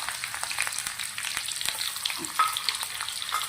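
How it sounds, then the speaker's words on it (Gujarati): Kasuri methi and chopped onion sizzle in hot oil for a tempering, a steady crackling fry with small pops and an occasional stir, close and moderately quiet. "સૌથી પહેલાં વઘારના અંદર કસૂરી મેથી નાખું છું ઘણી સમારેલી થોડી ડુંગળી નાખું છું"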